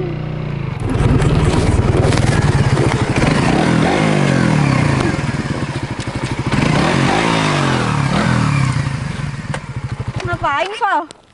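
A Suzuki Satria FU motorcycle engine revs and idles nearby with a rough, pulsing drone, while voices talk over it throughout.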